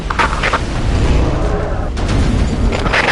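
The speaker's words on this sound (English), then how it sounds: "Blow them away with your copper cannons." Copper cannons in Earth Defense Force 6 fire as loud, heavy booms that blend into a continuous roar of battle, with blasts stacking up close and dense throughout.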